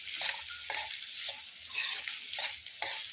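Kanthari chillies sautéing in a pan for chicken curry, giving a steady frying sizzle with several rhythmic scraping stirs spaced through the clip, close and moderately quiet with no talk.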